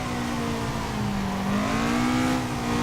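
A Toyota AE86 engine in the Assetto Corsa racing game holds a steady, droning note while drifting, its pitch dipping slightly and then climbing as the throttle comes back on, loud and continuous with no talk.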